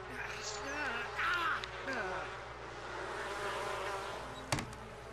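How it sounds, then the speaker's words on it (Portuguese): Bees buzzing and swarming to attack a character in The Sims 4, a continuous insect drone with wavering tones, moderately loud, while a person speaks over it. "as abelhas atacaram ele"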